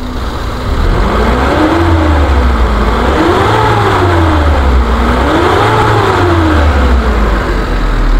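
A 2008 Suzuki Futura pickup's engine runs nearby, loud and continuous, its pitch rising and falling in repeated slow revs.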